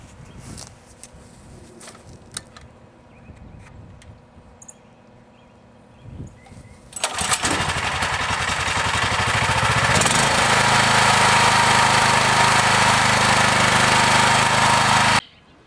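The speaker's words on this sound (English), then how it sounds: "You put the choke on, you pull the cord one time, and it starts." A Merry Tiller's small engine is pull-started with the choke on, one cord pull followed by the motor catching and running loud and steady nearby, after some quieter handling noises beforehand.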